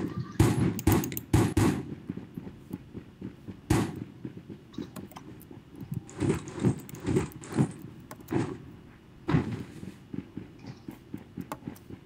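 Gunfire in the shooter game Rules of Survival, sharp irregular shots and bursts scattered among thuds and movement noises, moderately loud with no talk.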